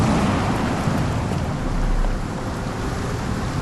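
Steady heavy rain pours with a low rumble of thunder in a Sherlock Holmes: The Awakened video game scene, loud and continuous with no voices.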